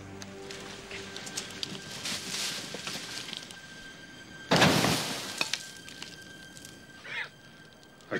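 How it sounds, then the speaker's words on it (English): A small gunpowder explosion set off under cover gives a single sharp, loud burst with a short crackling tail, then a brief second flare a couple of seconds later. "I don't know how big this explosion will be"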